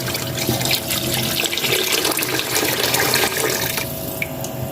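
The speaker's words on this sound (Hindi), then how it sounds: "अब मैं इसमें डालूंगी पानी।" Water pours into a pot of browned chicken and masala for spicy chicken biryani, a close, continuous splashing gush that fills the moment and tapers off at the end.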